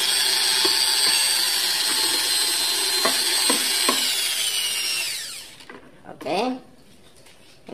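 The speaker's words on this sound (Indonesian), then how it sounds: "Kita aduk-aduk lagi." A homemade dish soap mixture is stirred with a loud steady whirring that winds down partway through, followed by a few light knocks and clinks against the container.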